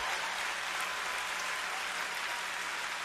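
A crowd at a political rally applauds military veterans with steady, dense, continuous clapping that holds evenly at a moderate distance, with no break and no voices rising above it.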